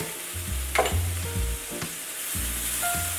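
Pressed garlic sizzles in a hot pan with a close, continuous crackle, interrupted by a few sharp clinks and utensil knocks.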